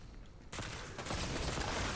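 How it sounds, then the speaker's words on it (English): Rapid gunfire bursts erupt in a Fortnite match, a dense fusillade of overlapping shots that starts suddenly and grows louder. "Oh, we're getting shot at."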